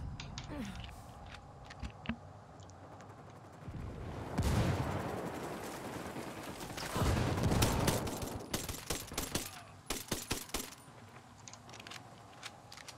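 Rapid gunfire bursts in the Ghost Recon video game, Team Rainbow fighting in Bolivia, with dense volleys of loud shots and scattered single cracks over a steady background of game ambience.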